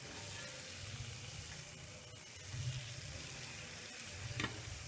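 Gulab jamun frying in ghee in a kadai, a soft steady sizzle with occasional bubbling swells, faint and close, with no voices.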